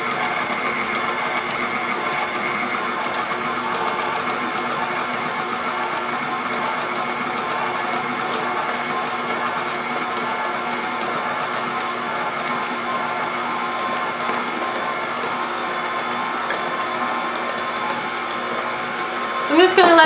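An electric mixer whirs steadily and evenly, beating cupcake batter made with vanilla and champagne, a continuous close hum with no talking.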